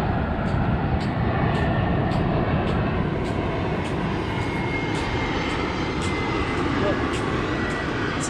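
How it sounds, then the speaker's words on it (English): Airplane passing over near Gold Coast Airport, a steady broadband roar that holds throughout at moderate distance, with outdoor ambience and no clear talk. "So you can see the airplane because the airport is around 5 to 10 kilometers away."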